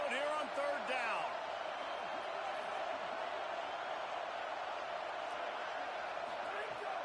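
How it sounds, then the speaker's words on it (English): Stadium crowd roar at Saban Field in a college football video game, Alabama hosting Texas on third down, a steady, loud wash of noise sustained throughout with a brief high whistle-like sweep near the start. "A veritable crimson tide of noise on Saban Field here on third down."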